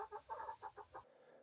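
Backyard chickens clucking close by in a rhythmic run of short, throaty calls that stops abruptly after about a second.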